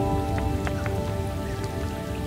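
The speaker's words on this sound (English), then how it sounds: "It started to rain, so I've put the tarp up." Steady rain patters on a small sailing dinghy during a thunderstorm, a continuous close hiss of drops with a few sharper taps on nearby surfaces, and no voices.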